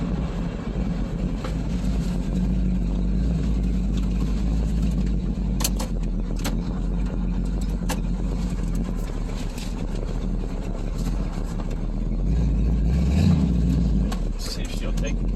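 A 1987 Toyota 4WD pickup fitted with a small-block Chevy 355 V8 and a 700R4 transmission runs on its second day after a cold start. A low, steady engine rumble continues throughout, rising near the end, while a person talks over it.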